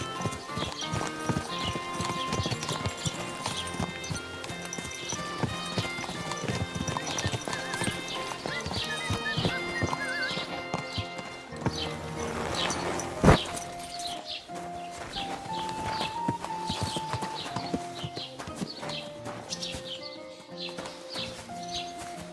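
Horse hooves clip-clop steadily in the medieval game Kingdom Come, close and continuous beneath a busy music-like background, with an occasional whinny and faint birds.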